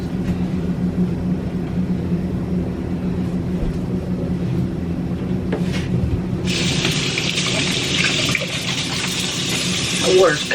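Cold water runs from a tap into a kitchen sink during home cooking, a steady broadband rush that grows brighter and louder partway through, with faint clatter around it.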